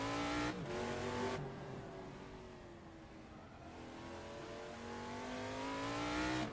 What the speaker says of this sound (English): As we accelerate into turn 3, I have to do a lot of modulation of the throttle to keep the car from spinning around.